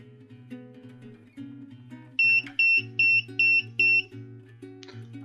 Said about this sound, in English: If you end up with your buzzer stuck on, you've no other option but just run the code